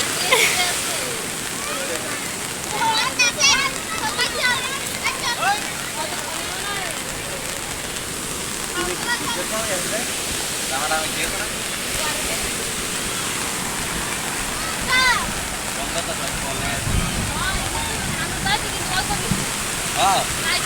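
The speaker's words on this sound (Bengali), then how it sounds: "নদীর স্রোত এত বেশি।" A strong, swollen river current rushes in a steady, loud, broadband roar that holds evenly throughout, with faint voices now and then beneath the water noise.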